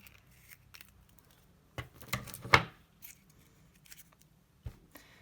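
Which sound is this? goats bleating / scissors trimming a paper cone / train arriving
scissors trimming a paper cone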